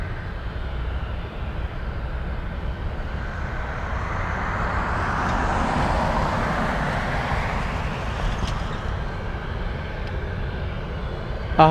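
C-17 military cargo aircraft coming in at Anchorage airport, a steady jet roar that gradually builds to a broad swell midway as it passes, then eases back, with no talk over it.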